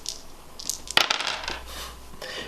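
Dice tumbling onto a surface during a children's maths activity, giving a sharp clatter followed by a few rattling bounces that settle quickly, close by and with no voices.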